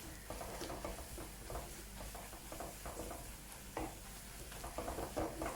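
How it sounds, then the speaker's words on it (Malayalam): Fennel powder and garam masala get stirred in a pan for a crab roast, a faint low sizzle under repeated soft scraping strokes, with no speech. "ഇത് നമുക്കൊന്ന് എല്ലാം കൂടെ ഒന്ന് ഇളക്കി അതിൻ്റെ പച്ചപ്പൊന്ന് മാറുന്ന രീതിയിൽ ഒന്ന് ഇളക്കിയെടുക്കാം"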